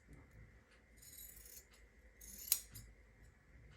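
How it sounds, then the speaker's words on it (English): Scissors snip quietly through the fabric edge of a quilt block, giving a few soft close rasping cuts with one sharper snip, faint against a quiet room. "Grab my scissors and just trim this off."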